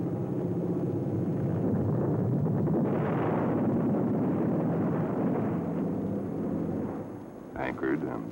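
Bombs dropped by Army, Navy and Marine Corps pilots explode on captured German warships, a submarine, a destroyer and the cruiser Frankfurt, heard as a sustained, loud rumbling roar of blasts that fades near the end, with narration over it.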